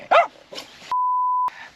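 Small dog barking at passing dogs, two sharp close barks followed by a long steady electronic beep, then a brief burst of noise.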